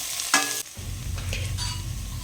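Cumin seeds stirred in a frying pan: a brief metallic scrape, then a steady close sizzle and crackle of frying that continues throughout.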